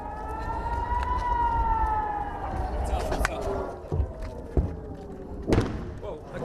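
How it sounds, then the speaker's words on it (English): An air raid siren wails over an Israeli town near Gaza, its rising and falling tone carrying from a distance, followed by scattered heavy thuds and booms with voices talking nearby. "And the sirens are near non-stop in towns close by."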